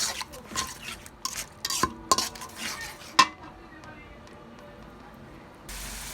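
Chicken roast with cumin powder stirred in a pot, a cluster of clinking, scraping spoon strokes against metal early on, then quieter low sizzling.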